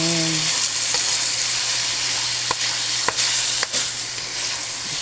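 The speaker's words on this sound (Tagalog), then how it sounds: "Gisa-gisa lang tayo." Bean sprouts with tofu and pork sauté in a hot pan, making a loud, dense, unbroken sizzle. A few crisp spatula clicks cut through it, and a short tonal beep sounds at the very start.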